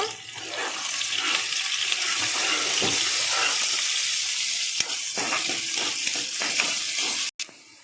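Onions fry in a hot pan while biryani is being made, giving a steady close sizzle with occasional stirring scrapes and a short break near the end.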